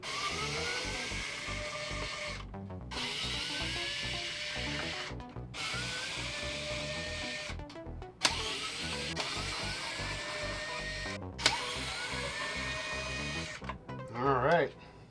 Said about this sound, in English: Grab my Fantix screwdriver for this. Make it a little quicker. Let's get these green guys out.